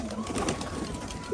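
Pigeons coo softly after bathing, a brief low throaty murmur close by with light rustling around it.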